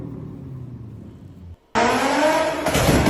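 Nissan 350Z with a non-original swapped engine, a low idle rumble that cuts out briefly before the engine snaps into a loud, harsh revving roar that keeps going.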